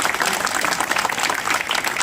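Audience applause at a Shiv Sena election campaign rally in the Sant Kabir Nagar area, greeting a legislator: dense, steady clapping from a large crowd, loud and continuous without a break.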